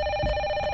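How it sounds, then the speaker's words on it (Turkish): A single steady electronic telephone ring tone plays in a Turkish audiobook scene, a bright sustained tone heard alone at moderate volume for under a second. "Telefon."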